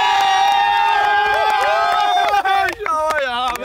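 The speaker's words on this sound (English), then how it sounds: "Boys, one cheer for this guy." Cheering crowd at an outdoor amateur cricket league match, a loud continuous wash of shouts and whoops with excited voices rising over it and voices talking throughout.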